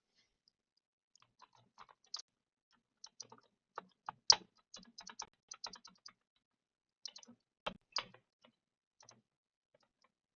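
Computer keyboard keys pressed one at a time, sparse close clicks and taps in irregular bursts with quiet pauses between.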